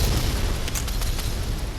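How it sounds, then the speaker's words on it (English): A napalm missile explodes in the video game Fallout 4, giving a loud, sustained roaring boom of fiery blasts that fills the whole moment without a break. "We got napalm missiles here. This is gonna be a big fire explosion."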